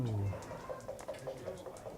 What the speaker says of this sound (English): the seagulls are shrieking